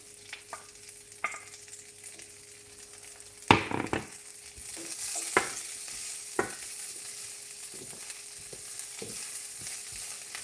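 Cabbage stir-fries in a pan, quiet crackling at first, then a loud toss bursts into a fuller sizzle with repeated spatula scrapes and taps close by.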